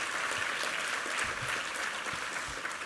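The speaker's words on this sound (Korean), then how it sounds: "우리 하나님께 감사와 영광의 박수 올려드리겠습니다." A church congregation applauds together in steady, sustained clapping, filling the room at moderate loudness with no talk over it.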